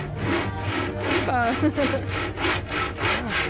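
Hand saw cutting wood with long strokes at an outdoor trade fair, a steady rhythmic rasp of about eight back-and-forth strokes, close and fairly loud, with a voice speaking briefly over it.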